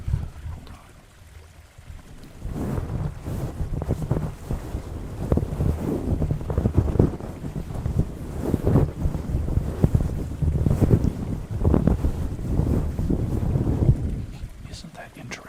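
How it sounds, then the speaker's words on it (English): A canvas bag rustling directly over a microphone makes a rough, windy crumpling roar that swells and fades in uneven waves, loud and close, after a quieter opening stretch. "the predominant sound you can hear is just the rustling of the bag as it's over your head"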